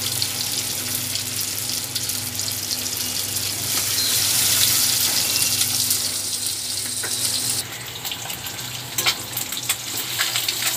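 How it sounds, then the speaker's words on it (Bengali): Eggs fry in a pan over a high gas flame, making a continuous loud, crackling sizzle that swells midway, then settles into a slightly softer spatter. "ডিমটা আমার ভাজা ভাজা হয়ে যাচ্ছে"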